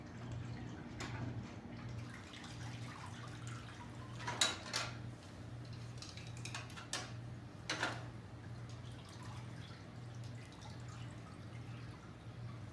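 Water dripping from a mop squeezed in a bucket wringer, heard as sparse, soft drips and splashes over a steady low hum, fairly faint and close.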